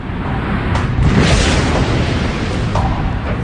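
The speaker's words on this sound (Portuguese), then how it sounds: "Vamos detonar as cargas lá dentro, explodir o barril no ar" Chemical charges detonated inside a barrel as a spacecraft propulsion simulation, giving a loud, sustained rumbling blast with a broad roar swelling near the middle and a sharper burst toward the end, heard alone.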